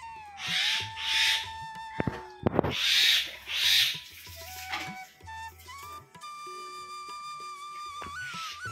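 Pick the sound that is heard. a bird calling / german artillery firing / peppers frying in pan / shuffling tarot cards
a bird calling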